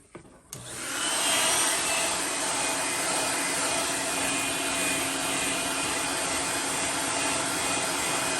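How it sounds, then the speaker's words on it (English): A heat gun heat-setting fresh paint on a swimbait lure starts with a click and then a steady, loud, breathy blowing roar that holds evenly throughout, close by with no talking. "I'm going to go ahead and heat set this really fast."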